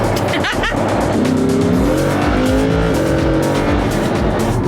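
A Lamborghini Huracan supercar drives close by, its engine note climbing as it revs up through the gears, with a brief tire scrub early on. The engine stays loud and near throughout.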